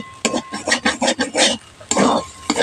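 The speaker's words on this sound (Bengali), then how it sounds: "জলের জন্য দেখুন আমি নেড়ে নেড়ে কিন্তু অনেকটা শুকনো করে ফেলেছি" Lote fish bharta stirred in a pan as it dries out, a quick run of close scraping, rubbing strokes of a utensil against the pan, rhythmic and bursty, no voices.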